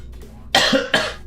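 Two harsh, close coughs from a person ill with COVID, one right after the other, sharp and loud over faint background noise.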